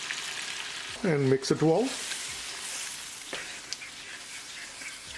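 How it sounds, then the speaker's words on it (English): Shrimp fry with garlic and spices in a pan on low heat, a steady close sizzle running throughout while a voice speaks briefly over it. "cooking shrimp with garlic and spices for 2 minutes"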